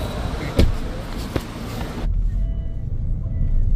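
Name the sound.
car driving from airport to hotel in Hanoi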